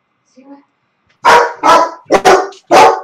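A dog gives four loud, close barks in quick succession, with a short faint whimper just before them and no one talking.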